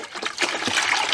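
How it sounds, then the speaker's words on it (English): Vinegar splashes and gurgles as it's poured into a bucket, a steady, close liquid rush filling the whole moment with no voices. "We're gonna pour 1 more gallon in here"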